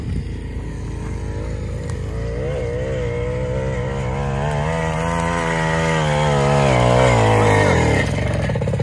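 A motorcycle's engine approaches and passes, its droning note climbing and growing louder before it peaks and starts to drop away near the end.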